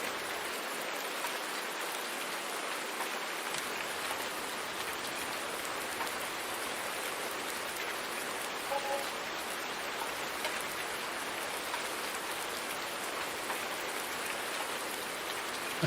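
Sleet falling in Farming Simulator 19, a steady dense hiss of icy precipitation, broad and unbroken for the whole stretch, with no voices.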